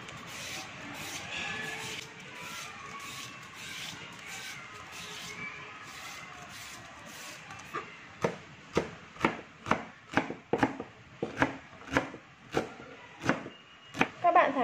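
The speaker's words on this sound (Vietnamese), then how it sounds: "Cà rốt thì mình sẽ bào sợi và thái nhỏ các bạn nhé." Carrots being grated into shreds and then finely chopped on a board, beginning with about eight seconds of steady raspy scraping, followed by a quick, even run of close, sharp knife chops that grow louder toward the end.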